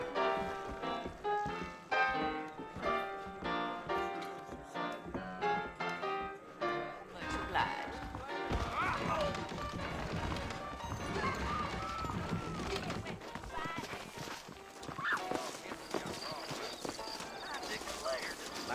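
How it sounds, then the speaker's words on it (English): Saddled horses clip-clopping at a walk on a trail at evening in the Western video game Red Dead Redemption, hoofbeats steady beneath game music and characters' talk. "I got the horses saddled up and ready out front"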